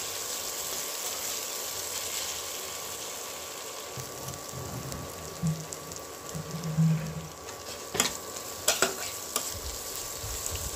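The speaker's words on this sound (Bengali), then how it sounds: "ভালোভাবে নেড়ে নেব আর একটু সুন্দর করে কষা করে নেব মশলাটা।" Masala with salt and turmeric being fried for a prawn curry gives a quiet, even sizzle, then a few louder utensil knocks and scrapes near the end, with no one talking.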